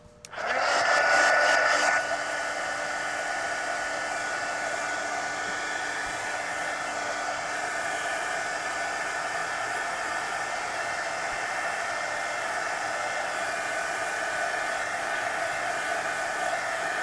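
A hair dryer blows on wet paint on a mixed-media journal page. It starts with a brief louder burst, then settles into a steady, even whir that runs alone for the rest of the clip.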